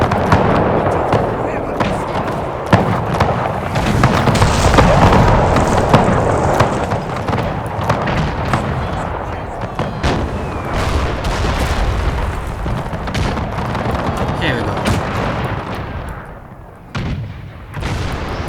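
Dense battle din from the video game Napoleon: Total War at Borodino, with rolling musket volleys and booming cannon fire crackling continuously, loud and layered, with a voice talking over it at times.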